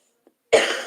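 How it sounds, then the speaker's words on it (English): A single loud, close cough bursts out after a faint short throat sound, rough and breathy, trailing off with a small second catch at the end. "I've barely coughed."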